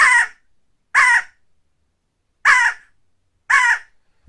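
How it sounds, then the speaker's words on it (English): Four short, harsh squirrel alarm calls, loud and close, each separated by a second or so of silence. "that noise right there, every animal in the whole woods knows that squirrels are ornery"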